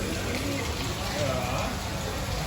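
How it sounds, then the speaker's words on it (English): Steady rain falls outdoors by a hotel pool in Kuala Lumpur, a continuous even hiss of drops on surfaces close by with a low background rumble, lasting throughout. "It has started raining"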